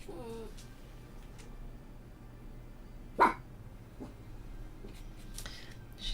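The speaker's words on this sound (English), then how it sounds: "You love it when dogs dream and they run and bark" Sleeping dog letting out a single short muffled bark while dreaming, followed by a faint soft whimper, close by in a quiet room.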